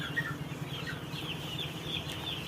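Broiler chickens cluck softly and steadily in a brooding house on a poultry farm on a hot day, a low, continuous flock murmur with a few higher calls and no talking.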